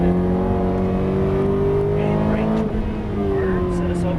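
A Ferrari F430 accelerates on a racetrack, its engine holding a loud, sustained drone close by, with a voice talking over it.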